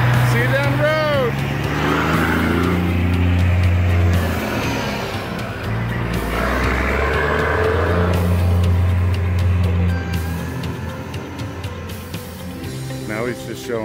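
A pickup truck pulling away at low idle while hauling an RV, a deep, loud engine rumble with some tyre and road noise that slowly fades as it moves off, with people talking over it.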